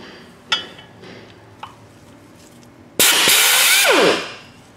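A power tool whirs loudly for about a second as it spins out a Torx bolt from a front-wheel-drive car's clutch pressure plate, then spins down, after a few faint metallic clicks.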